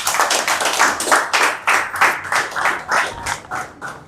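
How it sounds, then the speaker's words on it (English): An audience at a press briefing claps together in a steady, lively burst of applause that carries on for several seconds with no voices over it. "Can we clap for them, please?"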